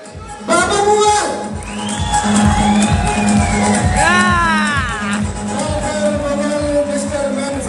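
Loud crowd at a bodybuilding contest cheers, whistles and shouts for the first-place winner, with a rhythmic pulse of clapping and whoops under an announcer's amplified voice.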